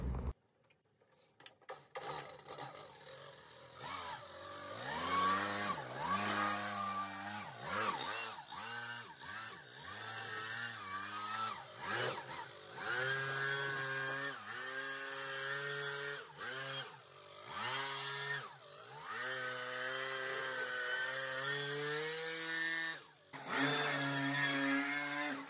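A power blower cleaning an epoxy flake garage floor runs steadily and close by, its motor whine rising and falling in pitch as the throttle changes, with brief cut-outs and no talk.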